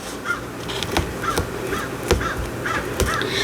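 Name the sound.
crow cawing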